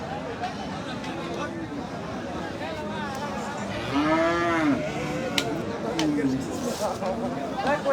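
Several large cattle moo loudly in turn at the Gabtoli cattle market, one long low bellow rising above the others, while people talk in a busy background crowd.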